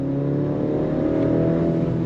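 A 2025 BMW X3 engine pulls steadily under throttle, a loud sustained hum with layered tones heard close, alone without talk.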